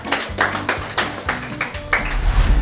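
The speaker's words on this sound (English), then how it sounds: "Let's give a round of applause." A classroom group claps in a quick, steady rhythm of sharp, close claps, with low voices murmuring beneath.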